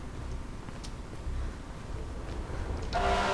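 Train rushing through in the first-person parkour game Mirror's Edge, a low rumbling approach that swells suddenly near the end into a loud, bright metallic roar with ringing tones, no voices over it.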